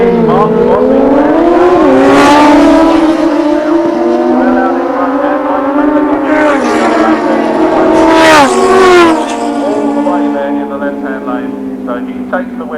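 At Santa Pod drag strip, loud race engines roar and rev in long rising sweeps as machines launch and accelerate away, close and dominant, with a commentator's voice running beneath.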